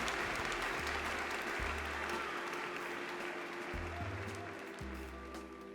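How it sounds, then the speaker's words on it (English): An audience at a talk event applauding a speaker, a continuous wash of clapping that fades gradually, heard over low background music. "A big round of applause for her."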